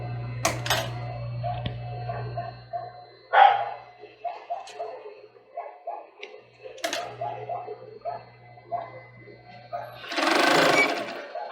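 A domestic sewing machine stitches the seams of a child's swimsuit in short whirring runs between pauses. A dog barks now and then, and a loud rushing burst comes near the end.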